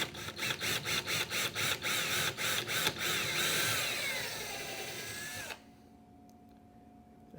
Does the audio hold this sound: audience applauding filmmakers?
no